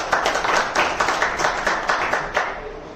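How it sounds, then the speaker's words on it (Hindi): An audience claps in a rapid, fairly close burst of many hands, with steady crisp beats throughout and no voices over the clapping. "तो आप अपने खुद के लिए तालियां बजाओ।"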